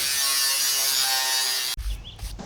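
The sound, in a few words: scoring sheet metal along a line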